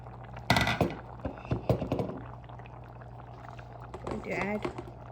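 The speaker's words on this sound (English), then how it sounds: "This is the tomato puree I made. I'm going to add half of it into that dal." Homemade tomato puree is poured into a pot of lentil dal, a thick wet glug and splatter near the start, followed by softer stirring and bubbling, with speech heard toward the end.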